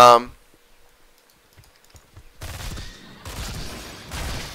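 Rapid gunfire from the hero Raynor in the video game Heroes of the Storm comes in dense bursts in the second half, after a loud opening sound and a quiet stretch, mixed with other game effects.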